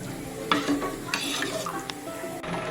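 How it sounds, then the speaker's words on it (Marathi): A pot of whole masoor lentil curry (amti) bubbles with a steady sizzle and rough simmering noise, with a few faint clinks of a utensil against the pan. "हे बघा आमटी आपली व्यवस्थित अशी उकळत आहे।"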